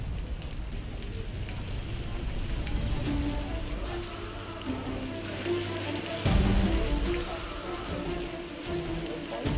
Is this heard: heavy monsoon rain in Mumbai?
yes